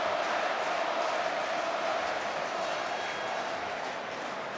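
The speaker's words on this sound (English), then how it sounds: "Boris, they're chanting." A stadium crowd at an England versus Germany legends football match in 2006 chants Boris in a dense, sustained roar, filling the background evenly and fading slightly near the end.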